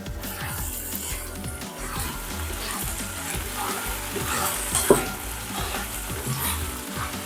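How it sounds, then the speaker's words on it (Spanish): Onion, celery and broccoli sautéing in a Ninja Foodi, a continuous close sizzle with repeated scraping stirs and a brief clatter partway through, without speech. "Cuando la cebolla cristaliza, vamos a echar el apio y el brócoli. Le damos una sofreidita."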